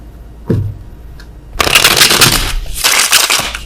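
Tarot cards are shuffled close up in two loud riffling bursts, each a rapid papery flutter, preceded by a single light tap and brief rustle.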